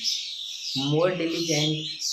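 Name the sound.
birds chirping outdoors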